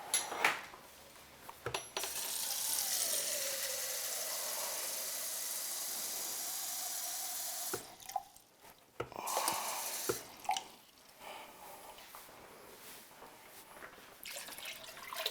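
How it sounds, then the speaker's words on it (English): Water pours steadily into a soup pot for sausage lentil soup, a broad continuous splash lasting several seconds, followed by clinks and handling noises in a quiet kitchen. "So I have 4 cups of water right now going in."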